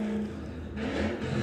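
A drag racing car at Santa Pod Raceway roars continuously at a distance, with a steady engine drone that swells slightly toward the end.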